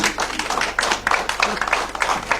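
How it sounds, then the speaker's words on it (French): Audience applause at an evening debate on happiness at work, a steady wash of many hands clapping with a few louder individual claps, fairly close and continuous. "Et donc on vous applaudit une fois."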